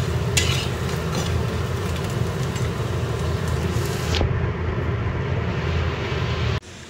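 Lentil fritters (dal bora) fry in a home kitchen pan at night, a loud, continuous oily sizzle with faint scrapes of stirring and clinks of utensils, cutting off abruptly near the end.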